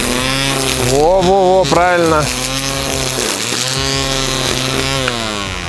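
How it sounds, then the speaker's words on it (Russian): A cordless battery-powered garden trimmer whirs steadily in a garden, a loud continuous motor whine with shifting pitch as it cuts, while a person speaks briefly over it. "Давайте проверим в действии этот триммер."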